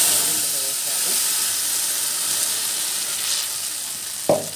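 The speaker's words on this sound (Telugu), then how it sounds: "ఇక్కడైతే పోపు అయితే పెడుతున్నాను" Tempering (popu) for chutney sizzles in hot oil as a steady close hiss and crackle, with a brief clatter near the end.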